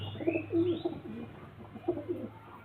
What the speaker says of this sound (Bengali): এটা মাদা পায়রা আর ওরই জোড়া নর পায়রা